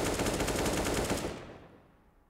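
A rapid burst of SMG fire in Counter-Strike on the Train map, a quick string of fairly close shots lasting about a second before tailing off into silence.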